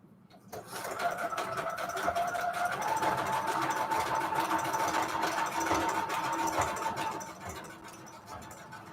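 A sewing machine hums continuously while stitching fabric onto shabby chic notecards, a steady whirring motor with rapid needle ticking that starts abruptly and eases off near the end.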